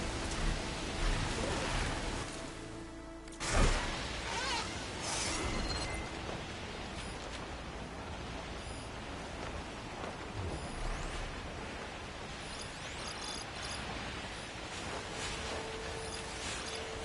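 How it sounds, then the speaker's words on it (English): Steady rainfall in the video game Horizon Forbidden West, a continuous broad hiss lasting many seconds, broken near the start by one short louder burst, with no talking. "rain."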